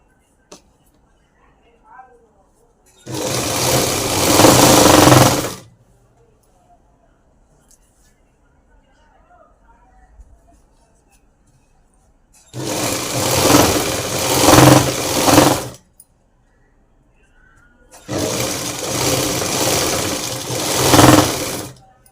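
Sewing machine stitching piping onto a blouse, running in three separate loud bursts of steady whirring a few seconds each, with quiet pauses between them.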